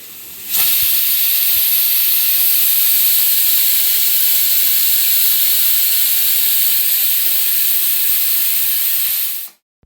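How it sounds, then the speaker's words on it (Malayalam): A pressure cooker cooking chickpeas lets out one long, loud, steady hissing whistle of escaping steam that holds for about nine seconds before cutting off abruptly. "അടുക്കളയിൽ ഇരുന്ന് കടല വേവുന്നുണ്ട് അതിൻ്റെ വിസിലൊക്കെ ദേ ഇവിടെ കേൾക്കുന്നുണ്ട്"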